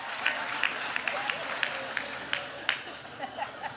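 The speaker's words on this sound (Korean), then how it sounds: "재선 도전을 선언한 바이든 대통령이 자신의 나이를 두고 농담을 던지자 박수가 터져 나옵니다." Applause from a large dinner audience at the White House correspondents' dinner in a Washington hotel, a steady, fairly faint patter of many hands with sharper claps standing out.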